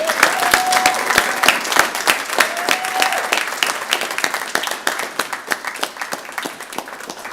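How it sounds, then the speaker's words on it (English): A graduating fire rescue class, Class 2502 of Brevard County Fire Rescue, receives a loud, sustained round of applause from a ceremony crowd, dense clapping with a few whistles running steadily throughout. "let's give one final round of applause for class 2502"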